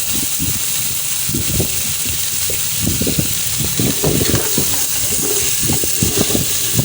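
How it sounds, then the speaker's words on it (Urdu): Half a kilo of beef sizzles with lightly browned onions in hot ghee, a steady close frying hiss with uneven low bubbling and stirring underneath. "ساتھ ہی ہم نے آدھا کلو بیف کا گوشت، بڑا گوشت جو ہے وہ ایڈ کر دیا"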